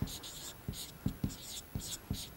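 Pen scratching on paper while working through a physics problem, quick scribbling strokes with short taps and pauses, close and quiet.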